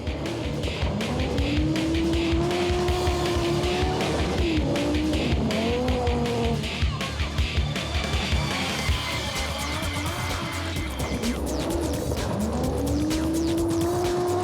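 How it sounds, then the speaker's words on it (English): An Audi Quattro S1 rally car from the mid-1980s roars hard on a rally track, its engine note climbing and dropping through gear changes, with tyre squeal and continuous loud engine noise throughout. "The S1 on the rally track, each gear change an explosion."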